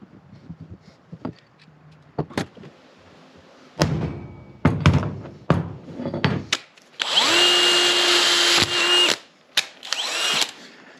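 Short bursts of a power drill whirring, then one long, loud drilling run with a high whine, mixed with clunks and handling noises, during restoration of a 1966 John Deere 110 Round Fender tractor.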